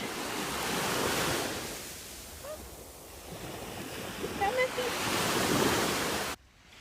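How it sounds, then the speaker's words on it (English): Ocean surf washing onto a beach, waves swelling and receding in broad surges with wind buffeting the microphone, ending abruptly. "I love the ocean so much."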